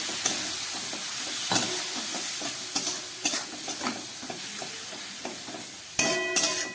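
Fish fries in a pan with black pepper, dried chili powder and a splash of water, sizzling and hissing steadily while a utensil stirs and scrapes in repeated clinks, ending with a louder clatter.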